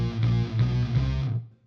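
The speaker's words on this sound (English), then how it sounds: "So on its own, you've got the guitar sounding like this." A distorted electric guitar plays a short phrase for a recreated Radio 2 jingle, a bright, buzzy chord pattern heard alone for under two seconds before cutting off.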